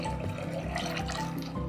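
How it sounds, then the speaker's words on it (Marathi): Water runs into a pressure cooker holding soaked chana dal, a close steady pour with slight bubbling and gurgle for a couple of seconds. "यामध्ये घालूयात पाणी"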